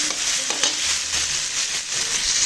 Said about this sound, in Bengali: মশলাগুলো ভালোভাবে কষিয়ে নিচ্ছি।